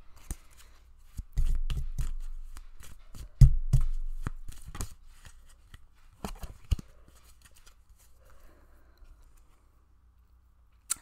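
Tarot cards are shuffled and handled in irregular bursts of quick riffling, flicking and tapping, close and fairly soft, with quiet gaps between.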